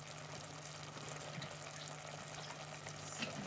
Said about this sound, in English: Just added a bit of water